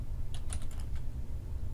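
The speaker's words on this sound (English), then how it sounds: "I'm going to type in" Typing on a computer keyboard, a quick run of light clicking keystrokes close by over a steady low hum, with no talking.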